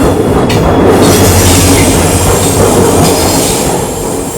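An express train hauled by a WAP-4 electric locomotive, running from Chamarajnagar toward Tirupati, rumbles steadily close by with a dense roar of wheels and carriages and faint squealing, loud and continuous without any voices.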